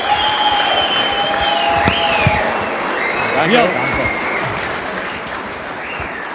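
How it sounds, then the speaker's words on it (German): A large crowd applauds the promotion-winning football coach at a celebration in a hotel, steady dense clapping throughout, with a voice briefly speaking over it. "nochmal ein großer Applaus für den Aufstiegstrainer"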